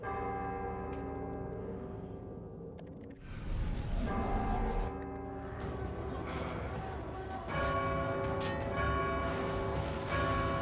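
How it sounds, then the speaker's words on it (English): Bells ring out in the God of War II video game, several resonant clangs layered over game music and ambient effects, loud and sustained with swelling strikes. "I gotta get both these bells ringing?"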